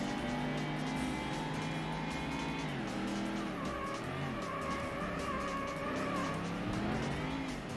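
Race car engines from the Ford Racing video game, Ford Taurus season, drone loudly and steadily with shifting pitch as the car understeers, while tires squeal and skid through the corners.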